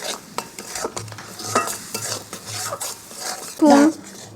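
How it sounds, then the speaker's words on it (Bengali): Shredded cabbage being stirred in a pan with a spatula, giving repeated scraping and clinking strokes over a light sizzle, close and moderately loud, with no talking. "এগুলোকে একটু ভালো করে নেড়ে চেড়ে নিয়ে এর মধ্যে আমি ডাল বাটাটা দিয়ে দেবো"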